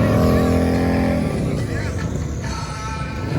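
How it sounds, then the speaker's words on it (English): Yamaha VMAX and a fast bagger motorcycle drag racing at a cycle drag event, a loud, close engine roar that holds steady for about a second, then drops into a rougher, lower rumble. "Let's finish it up with a VMAX trying to take down a fast bagger."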